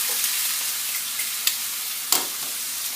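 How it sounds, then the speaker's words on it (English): Food frying in oil in a pan gives a steady, close sizzle throughout, with a couple of brief sharper crackles and pops rising above the hiss. "Can you hear that sizzle?"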